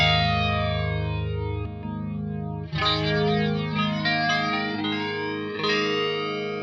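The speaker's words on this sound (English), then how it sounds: "it inverts the polarity of the effect, which apparently gives it a more hollowed out sound" A modified MXR flanger pedal with its effect polarity inverted processes a sustained, distorted guitar chord. A hollow, swirling sweep moves through it, and the chord is struck again partway through, loud and alone with no talking.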